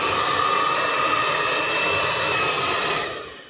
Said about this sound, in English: I thought I'd just give it a quick blast with the hairdryer